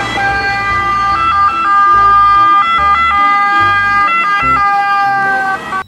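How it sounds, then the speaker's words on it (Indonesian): A toy ambulance siren wails loudly in an electronic tone that switches back and forth between pitches, sounding steadily for about six seconds before cutting off abruptly. "Ini ada mobil ambulans."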